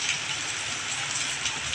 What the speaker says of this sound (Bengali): ভয়ঙ্কর রেমাল আপনারা দেখতে পাচ্ছেন, বৃষ্টি আর বাতাস, বৃষ্টি আর বাতাস, ঝড় হাওয়া